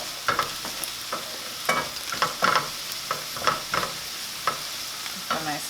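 Food fries in a pan with a steady sizzle while a utensil stirs it, making sharp clicks and scrapes at irregular intervals close by.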